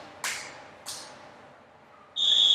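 At an indoor swim meet, an official's whistle sounds as a short, bright high-pitched tone near the end, after two sharp splashy cracks echo through the natatorium.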